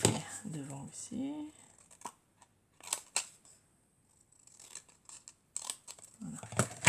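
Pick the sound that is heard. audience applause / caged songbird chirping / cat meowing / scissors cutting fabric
scissors cutting fabric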